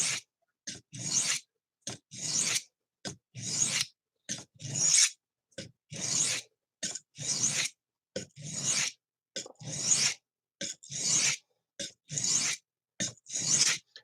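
A knife is drawn across a sharpening stone in quick, rhythmic strokes, each producing a short gritty rasp, repeated steadily with brief gaps between passes.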